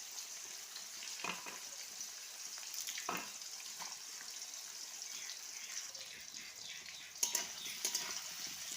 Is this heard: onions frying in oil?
yes